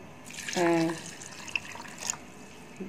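Water is poured into a cooking pot holding spices, lentils and meat for shami kabab, a short close splash and trickle followed by faint drips.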